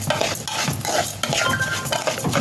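Red rice for a fish dish is stirred continuously in a pot, giving a close, dense scraping and rustling with a constant soft sizzle underneath and no talk.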